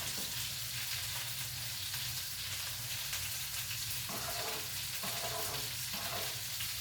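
Pasta boiling in a pot being stirred, a steady bubbling hiss with scraping, sloshing strokes of the spoon near the end.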